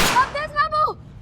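A gunshot in a Hindi TV drama scene rings out as a sharp burst at the start, followed by a tonal ringing, whistling tail of effects and music, with no talk over it.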